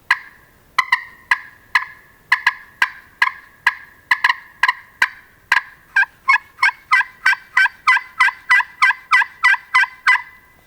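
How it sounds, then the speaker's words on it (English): Wild turkey gobbling on public land: a rapid series of sharp, close gobbles and clucks, rhythmically repeated about twenty-five times, loud and clear with no talk. "if there's a gobbler somewhat close, he hears a hen, he's going to gobble"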